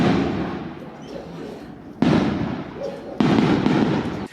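New Year's Eve fireworks and firecrackers going off in Italy, a dense crackling roar of many bursts with two sudden louder waves of blasts, loud and sustained.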